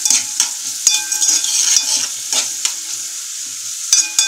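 Food sizzles in a hot pan while a utensil scrapes and stirs in irregular strokes, close up and fairly loud.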